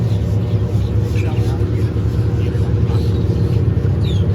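Loud airboat engines roar steadily in a close, continuous drone, with faint bird calls just audible above the engine noise.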